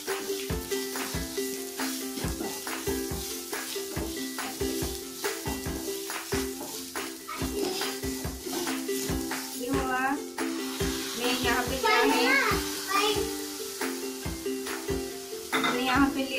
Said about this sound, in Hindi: मैं यहाँ पे डालूंगी 1/2 स्पून जिंजर गार्लिक का पेस्ट। इसको भी अच्छे से भून लूंगी।